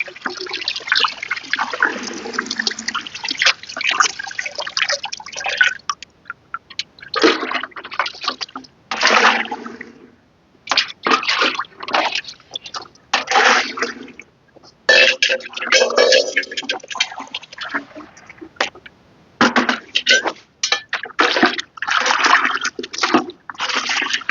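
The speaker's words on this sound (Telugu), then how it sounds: "మూడు రెట్లు నీళ్ళు వేస్తున్నాను" Water gushes and splashes into a large 20-litre bucket in long bursts with brief pauses between pours, fairly close and loud throughout.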